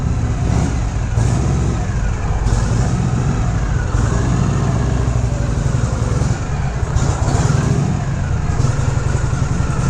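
A 1970 Harley Davidson FLH motorcycle idles loudly and close after a cold start, its engine running with a steady, lumpy throb throughout with no pauses.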